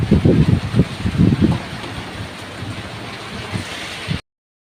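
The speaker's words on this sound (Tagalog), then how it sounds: "Ayan, biglang umulan." A sudden downpour hisses steadily outdoors, a broad wash of rain noise with a few heavier bursts of spatter early on before it cuts off abruptly.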